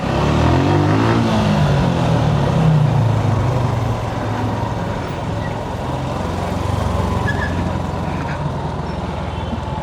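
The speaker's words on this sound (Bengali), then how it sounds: "বাইকের আর পি এম এত বেড়ে গেছে কেন" A motorbike, referred to as a Honda, ridden through city streets, its engine drone climbing in pitch early on and then holding at high revs, steady and close, over a dense rumble of surrounding traffic.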